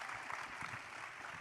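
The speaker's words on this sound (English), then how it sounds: "Yes, you can clap for that." Audience at a ceremony honoring Celia Cruz claps briefly, a faint, steady patter of many hands throughout.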